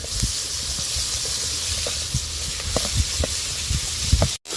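Vegetables frying in oil in a pan while cooking vegetable lemon rice (chitranna), a steady bright sizzle with scattered crackles and pops throughout, no voices.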